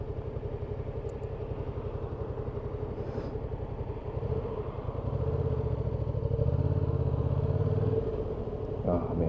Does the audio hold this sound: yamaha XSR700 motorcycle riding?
yes